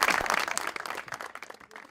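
Studio audience applause on a talk show, a dense burst of clapping that starts loud and thins out over about two seconds.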